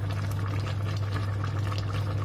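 Water bubbling at a steady boil in a cooking pot, a close, continuous rolling churn with dense fizzing bubbles and a low steady rumble, no talk over it.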